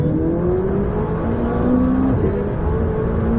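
A McLaren 600LT engine roars steadily under load on a race track, its pitch climbing through a gear as it accelerates hard, loud and close throughout.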